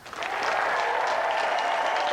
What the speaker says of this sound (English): Round of applause for Angela.